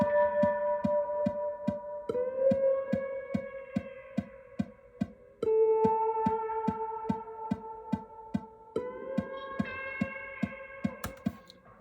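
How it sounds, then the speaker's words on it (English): Baritone electric guitar played through a wah and a delay in a funk style, sustained chords sweeping in tone over a steady rhythmic pick attack, with repeating echoes. "wah pedal, obviously, but I also have my favorite delay pedal ever"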